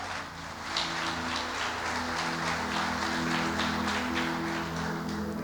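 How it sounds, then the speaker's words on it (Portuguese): Church congregation applauding during a sermon, a continuous crowd clapping with steady density throughout, mixed over a low sustained hum from the room's sound system. "Aplauda ele, aleluia."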